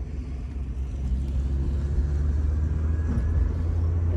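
A Mazda Miata driving on the road right after a clutch replacement: a steady low engine and road rumble, moderately loud and continuous, with no talking.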